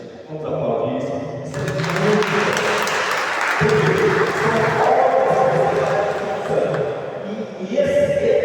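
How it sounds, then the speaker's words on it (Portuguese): A church congregation breaks into sustained applause and cheering that swells and fades over several seconds, with voices mixed into the crowd noise and music underneath. "Vamos aplaudir isso"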